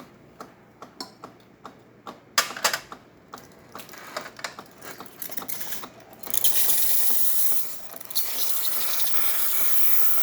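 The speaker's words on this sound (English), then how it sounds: "As the steamer starts to get purged from the previous use, you're going to see an increase of steam" A Jura coffee machine's steam wand purges after earlier use, starting with a run of sharp ticks and clicks, then building into a loud, steady hiss of escaping steam that keeps going to the end.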